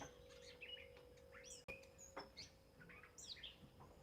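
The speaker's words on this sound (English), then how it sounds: "The birds have been chirping." Several small birds chirp and tweet outdoors in short, scattered calls, moderately close, against a faint steady hum.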